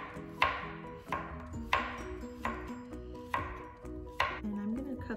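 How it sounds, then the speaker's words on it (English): A knife slices baby cucumbers into small rounds on a cutting board, six crisp, evenly spaced chops close by, each a sharp knock with a short ring after it. "I'm going to cut the baby cucumbers into small rounds."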